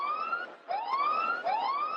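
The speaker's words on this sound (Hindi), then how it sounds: "जब ये नो बॉल आती है ना, तो ये घातक वाली घंटी की रिंगटोन आपके सामने एम्बुलेंस आ जाती है" An ambulance siren sound effect, played at a local cricket match to mark a no ball, wails loudly in repeated rising sweeps, about three cycles, with no talking over it.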